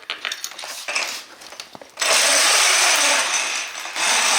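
A dehoused 2000 lb winch with 30 feet of cable on a Chevy Primal RC electric trail truck is unspooled by hand: close mechanical ratchet clicks for about two seconds, then a loud, steady rushing whir.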